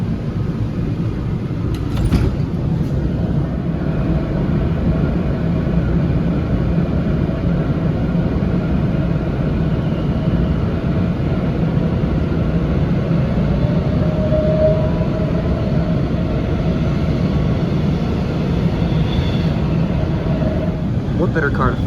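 Inside a Washington Metro Silver Line railcar heading toward Dulles International Airport, a steady low rumble and whine of the moving train fills the space, loud and continuous, with a brief clunk early on and faint tonal squeals later.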